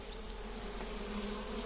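Honey bees swarm around a hive with pollen coming in, making a dense, continuous buzzing drone that stays even and close throughout.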